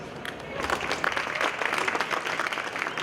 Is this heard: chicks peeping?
no